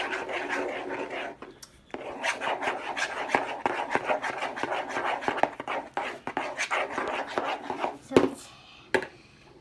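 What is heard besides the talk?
mixing homemade slime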